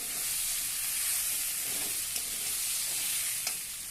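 Chickpea dal sizzles steadily in a hot pan, a dense continuous frying hiss with a couple of faint clinks from stirring, close and even throughout.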